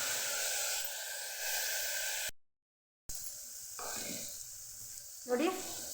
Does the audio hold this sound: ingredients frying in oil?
yes